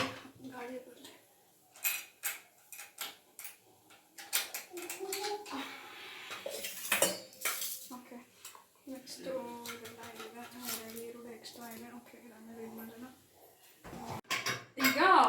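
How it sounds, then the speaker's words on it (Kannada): Pots, pans and dishes clatter and clink as they pile into a kitchen sink, with sharp metallic knocks in irregular bursts close by, under a voice talking through much of it. "ಈಗ ಎಲ್ಲ ಎಷ್ಟು ಪಾತ್ರೆ ನೋಡಿ ನೀವೇ ನೋಡಿ ಸಿಂಕ್ ತುಂಬಿಸ್ತಾ ಇದ್ದಾರೆ"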